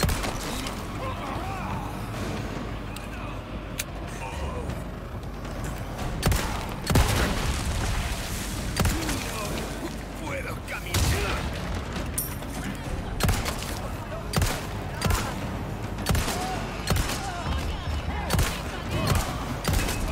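Repeated gunshots in Resident Evil 4, sharp bursts scattered irregularly over a noisy combat background, some shots louder and closer than others.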